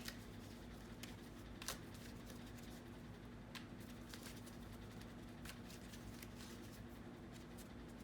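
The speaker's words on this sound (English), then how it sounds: "Let's go into the tarot." Tarot cards being shuffled close by in soft, irregular riffles and taps with a few sharper snaps, faint and steady over a low hum.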